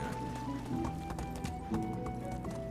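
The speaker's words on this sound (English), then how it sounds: "let's test the horse through water" A horse in the Medieval Dynasty video game trots through water, with repeated hoof clops and splashy thuds in an uneven rhythm at close range, and no talk over it.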